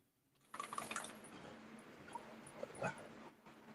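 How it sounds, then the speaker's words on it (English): Dog sounds play from a television across a room, faint and slightly tinny whimpers and yips over a low background hum. "There's a doggy in the TV."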